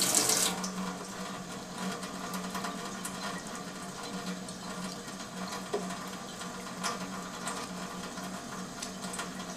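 An Enagic SD501 Kangen water machine dispenses 9.0 alkaline water in a soft, steady stream with a faint hum throughout, quiet and continuous with no talk.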